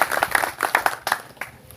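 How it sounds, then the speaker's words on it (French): Applause from the audience at a pastors' conference session, a short burst of clapping with quick claps that fade toward the end. "alors applaudissons pour ton époux"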